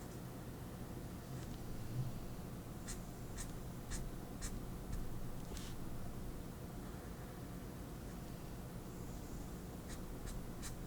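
Marker drawing on a card, soft scratchy strokes in short quick bursts over a quiet hiss, close and faint.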